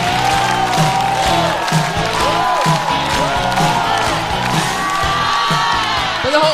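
A live stand-up comedy audience applauds and cheers to welcome a comedian on stage, a dense, sustained wash of clapping with whoops and shouts near and loud throughout.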